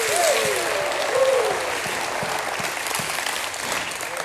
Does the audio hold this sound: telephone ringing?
no